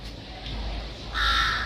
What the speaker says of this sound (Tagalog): Tapos at the background, marinig mo yung mga uwak.